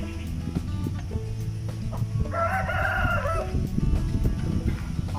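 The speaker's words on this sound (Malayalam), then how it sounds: "കോഴി അതും വെറും കോഴിയല്ല അസീല്" An Aseel rooster crows once loudly and fairly close, a drawn-out call over low farmyard background noise on a Tamil Nadu farm.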